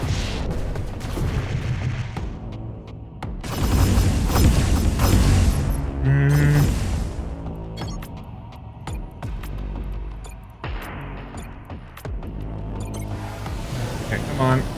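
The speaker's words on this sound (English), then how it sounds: "Missile barrage in 3." A missile barrage fired in the space strategy game Crying Suns: heavy booming volleys and mechanical launch clatter over a rumbling game soundtrack, with a voice talking over it.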